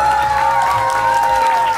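Theatre audience applauding continuously at a children's dance performance, a steady dense wash of clapping with crowd noise and a sustained tone over it throughout.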